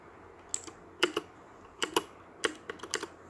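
Keys clack on a new mechanical keyboard, a few sharp close clicks in small irregular bursts separated by quiet pauses.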